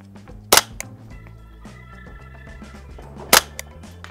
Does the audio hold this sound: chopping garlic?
no